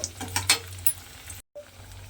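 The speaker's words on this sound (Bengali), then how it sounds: "বড়িটা তেলের মধ্যে দিয়ে বড়িটা আমি খুব ভালোভাবে ভেজে নেব।" Lentil dumplings (bori) fry in hot oil, a close steady sizzle with light stirring scrapes and a brief pause near the end.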